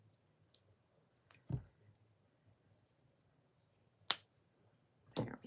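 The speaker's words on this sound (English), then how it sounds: "Okay, let me cut that." Jewelry wire snipped with cutters while making swing earrings: a few sharp, close clicks in a quiet room, spaced apart, the last pair louder and crisper.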